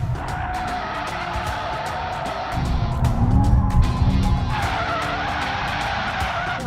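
A BMW M5 Competition in rear-wheel-drive drift mode slides with loud, sustained tire skidding and squeal over a roaring engine that surges midway, close and continuous, with no talking.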